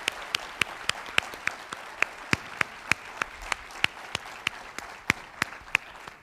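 An audience applauds award recipients at an education conference ceremony, with sharp, distinct claps in a quick, fairly even rhythm, moderately loud and sounding like a modest crowd.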